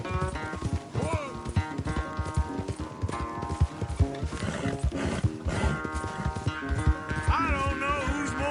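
Horses galloping in a race in the video game Red Dead Redemption, dense rapid hoofbeats running throughout with a whinny and background game music, voices calling out over the clatter.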